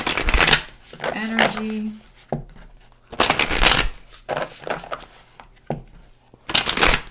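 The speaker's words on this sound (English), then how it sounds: "Wow, and I'm shuffling." Tarot cards shuffled by hand in loud, close riffling bursts that alternate with a person talking.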